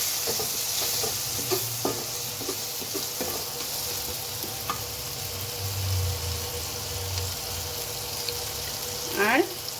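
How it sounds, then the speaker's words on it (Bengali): Spices and tomatoes frying in a pan with a green chilli and shahi garam masala for sabudana khichuri, a steady soft sizzle under repeated spoon scrapes and stirring taps, with a brief whistling squeak near the end. "ভাজা ভাজা কষে নেবো মশলাটা, টমেটোগুলো এর মধ্যে মিক্স করে নেব"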